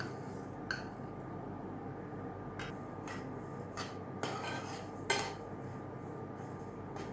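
Coriander seeds dry-roasting over very low heat in a pan while being stirred: scattered light clinks and scrapes of a utensil against the metal pan over a quiet background hiss, with no voices.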